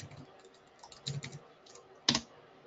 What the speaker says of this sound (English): I used the arrow key on the keyboard and it didn't catch.